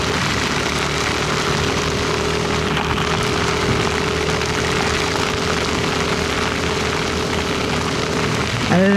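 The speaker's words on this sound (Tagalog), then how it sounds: "Ulan, sinong di mapapasayaw sa ulan?" Steady loud rain pouring down outdoors, a dense unbroken hiss with a faint low engine-like hum beneath it throughout.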